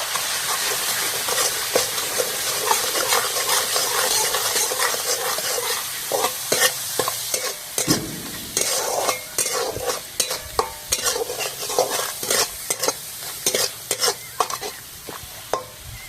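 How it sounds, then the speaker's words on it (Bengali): Ground coriander, cumin and salt stir-fried in a hot pan with a steady loud sizzle, broken by rapid scraping strokes of a spatula that grow sharper and more frequent over the second half. "মশলাগুলো একটু কষে নেব।"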